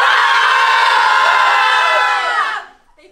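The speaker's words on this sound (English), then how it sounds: "all let out a primal scream" A group lets out a loud, sustained primal scream together for about two and a half seconds, then it breaks off abruptly into near silence.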